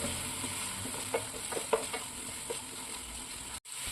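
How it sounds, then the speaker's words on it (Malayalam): Onions and small chopped green chillies sauté in a pan at low volume, a soft steady sizzle with a few faint stirring scrapes and taps, no voices. "നമുക്കിത് നല്ലതുപോലെ വഴറ്റി കൊടുക്കാം"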